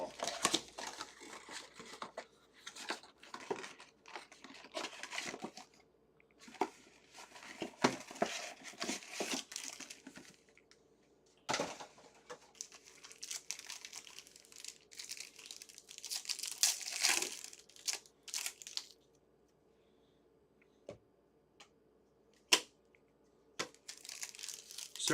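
Football trading card packs, including Prism packs, torn open and crinkled during a card break, with bursts of crisp foil wrapper crumpling and tearing close by, broken by short pauses and sharp snaps.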